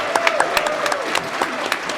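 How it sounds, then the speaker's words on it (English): An audience at a Super Metroid speedrun charity event gives a round of applause for Power Up Audio, with moderate, patchy clapping and a voice speaking over it. "Audience, can we get a round of applause Yes. for Power Up Audio?"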